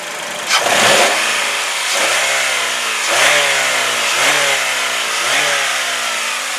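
A 2004 Saturn Ion four-cylinder engine revs repeatedly, rising and falling in several close, loud bursts with a steady idle between them.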